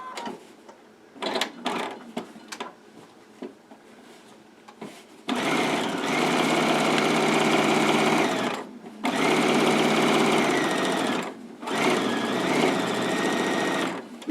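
Sewing machine stitching across the top of a tote bag seam, a few soft handling clicks followed by three bursts of loud, rapid mechanical whirring with brief pauses between, close up and without talk.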